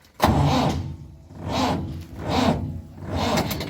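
A tractor's starter cranks slowly in cold weather on a flat, dead battery, four labored, rising-and-falling groans of the engine turning over without firing, loud and close.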